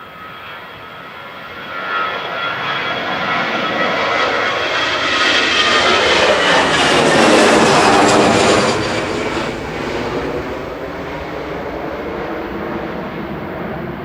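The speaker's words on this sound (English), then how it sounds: "EasyJet's on the roll to Tenerife." An EasyJet airliner rolls for takeoff at Manchester Airport bound for Tenerife, its jet engines building to a loud, sustained roar that swells and then eases as it passes, with no talk over it.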